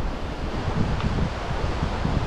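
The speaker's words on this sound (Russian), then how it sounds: "Вот такое побережье сейчас Черного моря" Wind and surf wash steadily along the Black Sea shore near Nebug on a July day, a continuous close rushing roar with gusty swells and no voices.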